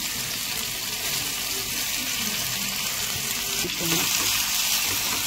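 Ash gourd coated in poppy seed paste frying in hot oil, a steady, close sizzling hiss that holds level throughout and grows slightly louder toward the end.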